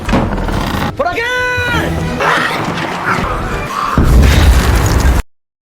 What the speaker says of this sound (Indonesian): Mecha pun menyalakan dinamit di tengah rumah dan pergi membelakangi ledakan